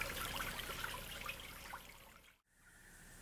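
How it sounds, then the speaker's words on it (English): Running water of a mountain creek rushes steadily nearby, then cuts off abruptly and resumes as a quieter, more distant flow. "They always build them near a creek or a small stream to so they have a continual water supply"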